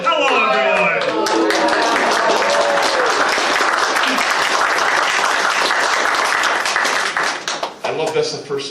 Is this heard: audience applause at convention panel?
yes